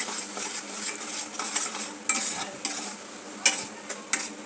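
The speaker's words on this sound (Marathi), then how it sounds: "आता हा सर्व मसाला परतून घ्यायचा आहे" Ground homemade masala is stirred and sautéed in oil for a village-style chicken curry. A soft sizzle runs underneath, and sharp spoon-on-pan clinks and scrapes land at irregular intervals.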